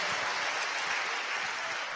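Congregation clapping during a church sermon service, a steady wash of many hands applauding at moderate distance, continuous and even with no talk over it.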